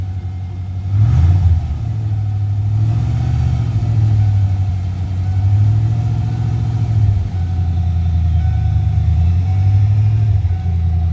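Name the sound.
Ford F150 engine running and revving after fuel priming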